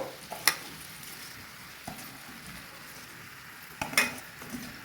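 Rice and lentils tipped by hand into vegetables frying in a pot for vegetable khichuri, a soft steady sizzle with a few sharp clinks and stirring scrapes standing out near the start and end.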